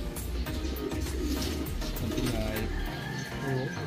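Pigeons coo steadily inside a loft housing local-cross-imported racing birds, several overlapping throaty calls filling the space close by, with faint talk mixed in.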